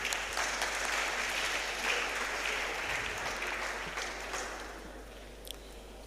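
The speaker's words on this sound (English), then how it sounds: "Another round of applause for them." Audience applause at a public speaking competition semi-final, a dense steady clapping from a crowd that gradually fades toward the end.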